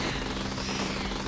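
Enemies firing on the player in the video game Dropship Down, a loud, dense stream of rapid gunfire rattling without pause through the whole short burst, with no talking.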